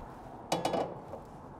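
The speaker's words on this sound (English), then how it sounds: "So we're gonna place a 10-inch skillet on here." A 10-inch skillet is set down on an infrared grill burner, giving two quick metallic clunks close by, followed by a faint rattle and then quiet.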